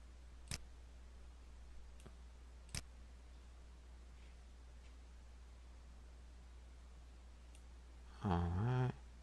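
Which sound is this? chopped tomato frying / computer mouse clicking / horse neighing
computer mouse clicking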